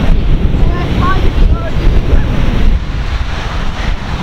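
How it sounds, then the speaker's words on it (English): Strong outdoor wind buffets a camera microphone, giving a loud, continuous rumbling roar that gusts unevenly throughout. "So windy."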